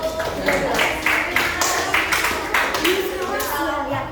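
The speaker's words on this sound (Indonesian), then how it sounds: "Baik, kasih tepuk tangan dulu." Classroom students clap in a short burst of uneven, rhythmic hand claps, with children's voices and chatter mixed in nearby.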